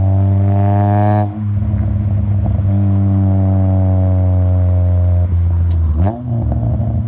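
Car accelerating hard on snowy roads after a blizzard, wheels spinning in third gear; a loud, steady engine drone climbs in pitch, dips briefly at a gear change, and rises again.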